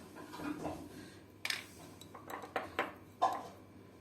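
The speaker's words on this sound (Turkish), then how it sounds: "Ekledikten sonra salçalı sosumuzdan tekrar karıştırıyoruz." A spoon stirs kısır, a bulgur salad, after a tomato paste sauce is added, making scattered scrapes and clinks against the bowl, close but fairly quiet.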